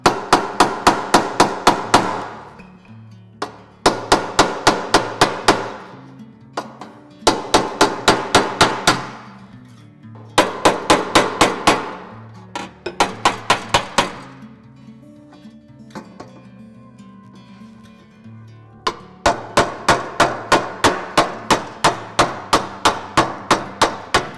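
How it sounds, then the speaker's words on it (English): Rapid bursts of metallic hammer-and-dolly blows on sheet metal during dent repair, repeated in quick rhythmic series with short pauses between, loud and close. "So I'm gonna repair this little piece and this with a hammer and dolly."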